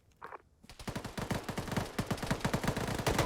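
Rapid bursts of automatic gunfire from an enemy contact in the Arma military simulation game, opening with a brief faint sound before the shooting builds into dense, loud, continuous volleys.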